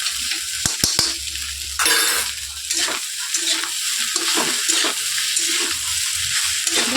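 Pasta tossed with pizza pasta masala is stirred in a pan, a steady scraping stir over a continuous soft sizzle, close and fairly loud throughout, with no talking.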